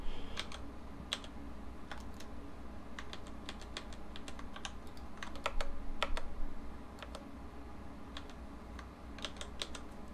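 Computer keyboard keys pressed while working in 3D UV unwrapping software, scattered single clicks and short quick clusters, close and fairly quiet over a low steady hum.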